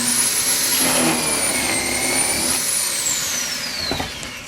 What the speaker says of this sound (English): When I pull it down, it'll clamp it in place and drill the hole.